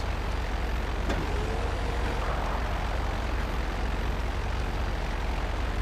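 A fighter plane in GTA Online flies with a steady, loud engine drone throughout, with no one speaking over it.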